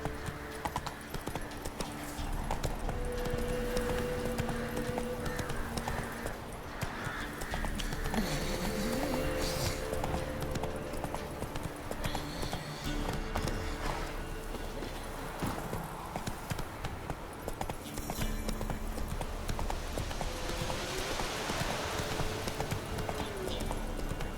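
Hooves of Geralt's horse Roach in The Witcher 3: Wild Hunt, a steady galloping clip-clop drumming continuously at moderate distance over ambient game sound, with a brief whinny partway through.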